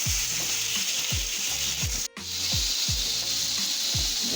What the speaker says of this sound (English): this is the seasoning frying up. The curry in there.